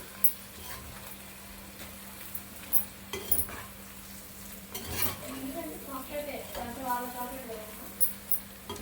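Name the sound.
stirring masala powder into chicken fry in a pan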